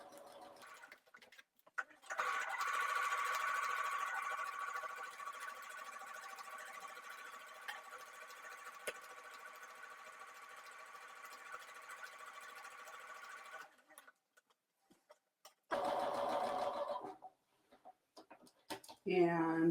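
A sewing machine stitches along the edge of a quilt, its motor whirring in a steady, fairly loud run of about eleven seconds before stopping, followed by a couple of short, separate sounds.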